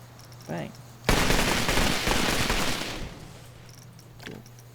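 A tight burst of fireworks in the theme-park game Planet Coaster 2: about two seconds of loud rapid crackling bangs that start abruptly, with a faint voice briefly before and after.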